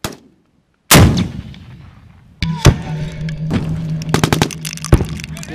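An AT-4 rocket launcher fires on a military range, one sharp, very loud blast followed by a rumbling echo. Several more cracks and booms follow nearby and in the distance.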